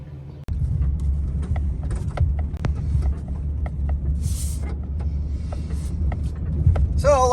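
A pickup truck drives through a cornfield, its engine a steady low rumble close up, with light knocks and rattles scattered over the drone.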